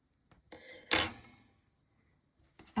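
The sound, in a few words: cutting crochet yarn with scissors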